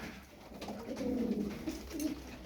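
Clean-legged pigeons coo softly nearby in a low, rolling murmur that swells and repeats twice over a quiet background, with no talking.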